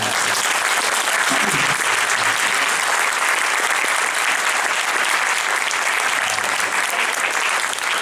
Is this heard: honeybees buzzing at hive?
no